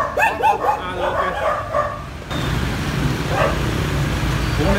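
Puppy of the Phu Quoc breed being put onto a vehicle gives a burst of high yips, barks and whimpers, then quiets as a steady engine-like rumble and background noise take over; a person speaks nearby.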